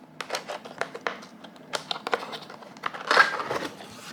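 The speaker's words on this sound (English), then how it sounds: "let's open up the box." Cardboard packaging for a Royal Kludge RK84 wireless mechanical keyboard is opened up close, with a run of sharp taps, scrapes and crinkles in an irregular rhythm.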